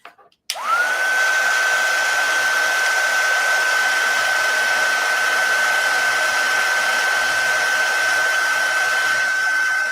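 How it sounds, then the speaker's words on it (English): A craft embossing heat gun switches on after a brief click and then blows with a loud, steady whirring hiss and a constant high whine while heat-setting a project. "I'll heat set with my heat tool"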